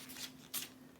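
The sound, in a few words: paper cutting practice sheets being handled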